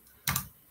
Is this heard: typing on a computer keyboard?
yes